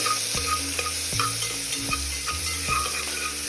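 Onions sauté with salt in a pressure cooker, sizzling loudly and steadily while a utensil stirs and scrapes in a regular rhythm of strokes close by.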